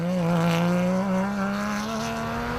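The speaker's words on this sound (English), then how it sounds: "Another Class S vehicle, this time it's the Ford Ranger Diesel of Lo de Brain and Rian Kralin from Rubicon Racing" A Ford Ranger Diesel Class S rally vehicle in the Toyota Dealer 450 2014 drives by with a loud, steady engine drone that rises slowly in pitch and carries no voices.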